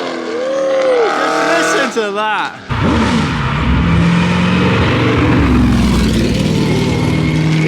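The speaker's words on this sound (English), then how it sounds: "So this Lamborghini Aventador is doing his second run." A Lamborghini Aventador at a hill climb, its loud engine roaring and revving as it runs past close by, with someone talking over it.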